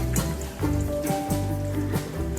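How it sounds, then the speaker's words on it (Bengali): Battered raw papaya slices frying in oil over a low gas flame, a steady bubbling sizzle with crackling pops, close and moderately loud with no talking. "একটু হালকা পুর দিয়ে পেঁপেগুলো আমি ভেজে নিচ্ছি।"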